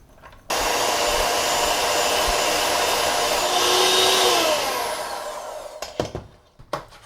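An electric mixer beats butter, brown sugar and vanilla, starting abruptly and whirring loudly and steadily for several seconds before winding down, followed by a few clattering knocks of the bowl and beaters.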